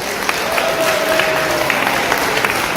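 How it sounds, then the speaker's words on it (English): Audience applause at a Bollywood charity ball in Cairns, a steady wash of clapping from a large crowd filling the room for about three seconds, with no speech over it. "put give a round of applause once again for Jess"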